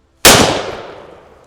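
A single close, loud blast from a Derya DY12Y shotgun, a sharp crack after brief silence followed by a long decaying echo.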